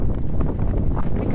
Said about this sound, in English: It's wicked windy, as you can see.